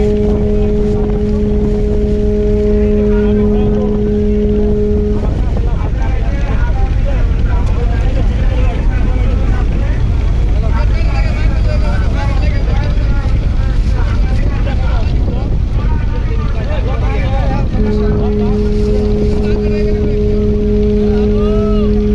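Passenger launches racing together on a river, one of about sixty in the race, roar with steady engine and wind noise, and long deep horn blasts sound near the start and again near the end.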